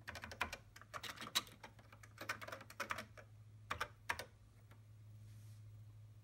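Typing a command on a TRS-80 Model III keyboard: quick, close clusters of key clicks in uneven bursts for about four seconds, then a quiet hum from the machine, no speech.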